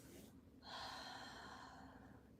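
A single deep, breathy exhale during a gentle yoga recovery flow, drawn out for a couple of seconds after a brief pause, close and soft with no talking.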